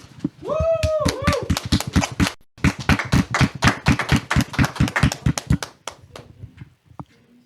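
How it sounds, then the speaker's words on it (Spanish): Steady, rhythmic applause from an audience at a Catholic faith talk, many sharp claps in quick succession; a high voice rings out at the start, and the clapping tapers off near the end. "pido un fuerte aplauso"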